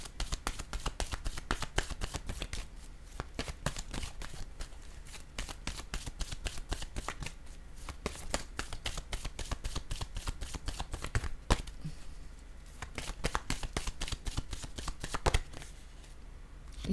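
Tarot cards are shuffled close up, with a dense, continuous run of crisp riffling clicks and flutters for the whole stretch, no voices.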